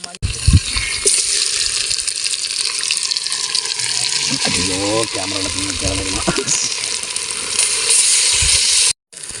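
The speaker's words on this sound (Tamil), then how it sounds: "லைட்டை தண்ணி ஊற்றிக்கணும் இன்னும் கொஞ்சம் ஊத்துறா" Water pours steadily and loudly for several seconds, a continuous splashing rush, while grill chicken is being cooked, with a person talking over it partway through before it cuts off.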